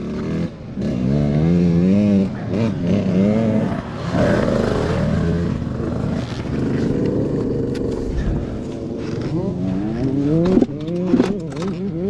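A two-stroke dirt bike engine held in first gear at a motocross track in England buzzes loudly and nearby, its pitch climbing and falling in repeated revving sweeps with a raspy edge throughout.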